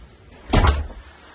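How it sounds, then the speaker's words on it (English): A wood-effect UPVC front door opens onto a small hallway with one short, close, solid clunk and a brief rattle, then quiet room tone with no talking. "It's got a wood effect UPVC front door going into a small hallway"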